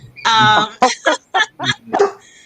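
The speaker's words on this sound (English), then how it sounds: "Oh, there goes my dog." A very large dog of about 170 pounds barks nearby, loudly. One drawn-out yelping bark is followed by a quick run of four or five short, sharp barks in a home setting.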